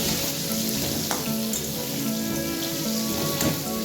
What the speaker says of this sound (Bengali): তেলের মধ্যেই আলুটা আমি ভেজে নেব।